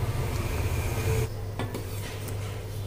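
A lid goes onto a pot of Gujarati tuvar dal cooking in a home kitchen, a short metallic clatter over a low simmering hum, then a quieter settle with a couple of faint clinks.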